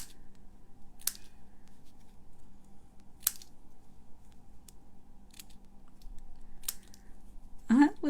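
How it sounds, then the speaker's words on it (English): Scissors snipping paper ribbons for a gift bag and card, four or five sharp separate cuts spaced about a second or two apart in a quiet room, with a short burst of speech at the end. "I'm not even like trying to trim them, I'm just snipping."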